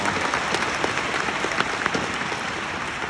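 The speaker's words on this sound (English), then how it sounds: "Please give her a big round of applause." An audience at an MDRT gathering applauds in a dense, steady wash of clapping, sustained and fairly loud throughout with no speech over it.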